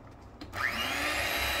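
An electric mixer starts up and whirs steadily, beating a cake batter of flour, milk and whey at close range without any talk.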